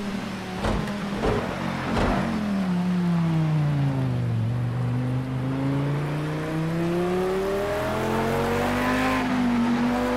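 A GT race car in the racing game Assetto Corsa Competizione drones steadily as its engine pitch falls and then climbs again through a long run, with a few sharp tire or curb noises near the start and no talking.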